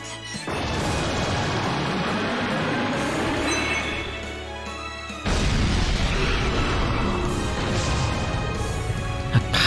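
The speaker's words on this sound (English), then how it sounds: "Blast him to smithereens. Double buster cannon." A double buster cannon blast in the video game Trails From Zero, a loud sustained roaring burst that swells again midway into a heavier, crashing second wave.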